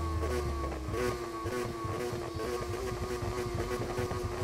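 A Mazda RX-7 in the NFS Heat racing game drones loudly with a sustained engine tone, revving in slight rises and dips throughout, with no talking.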